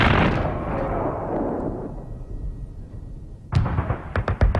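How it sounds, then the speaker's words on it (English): A tank shell detonates on impact with a heavy booming blast that rolls away into a long fading rumble, followed moments later by a quick series of sharp distant bangs. "The second type is a shell which explodes on impact and simply rips the tank"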